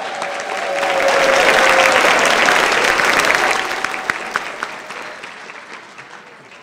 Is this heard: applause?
yes